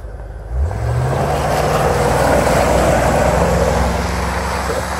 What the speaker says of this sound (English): First the front wheel spun, and then the rear wheel spun, and then the car took off really well.